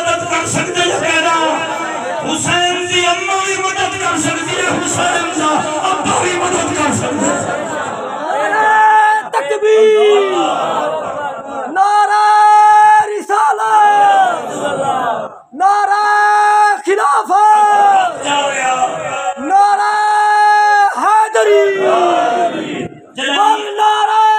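A gathering crowd at a religious gathering loudly chanting slogans in unison, with repeated rhythmic bursts of voices led and answered, close and forceful, alongside a preacher's voice.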